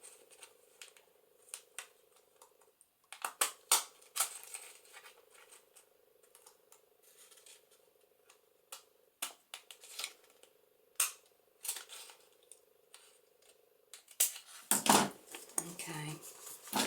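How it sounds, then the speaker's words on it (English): Fancy scissors snipping a frilly edge along the top of a sheet of paper, a series of crisp close cuts in irregular bursts, with a low steady hum running under parts of it. "fancy scissors here, and I'm just going to cut along the top of this so that we've got that sort of like frilly edge"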